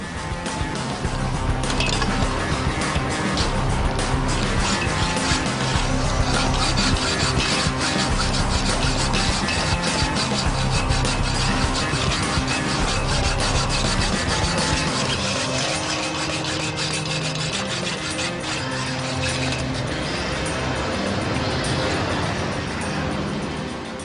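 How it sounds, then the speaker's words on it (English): Steady, gritty rasping of a hacksaw cutting through a bicycle lock at Barbican Tube Station during rush hour, continuing loudly and unbroken for the whole stretch, with no voices. "Method of attack, hacksaw."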